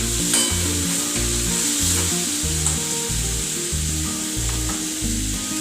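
Spice paste for Gujarati batata vada cooking in a pan, a loud steady sizzle close up with regular rhythmic scraping of a stirring spoon, no voices.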